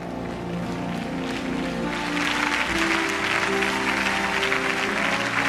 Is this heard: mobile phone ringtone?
no